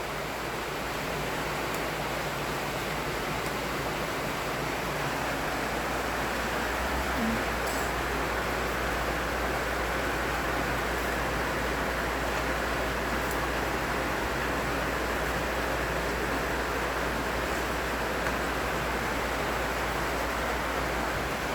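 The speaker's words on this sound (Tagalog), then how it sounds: "umuulan dito sa amin ngayong gabi" Heavy rain pours down at night as a dense, unbroken hiss that stays loud and even from start to finish.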